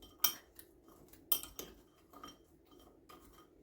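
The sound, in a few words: stirring cereal croissants with a spoon in a bowl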